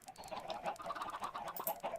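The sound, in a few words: chickens clucking on a chicken farm in a video game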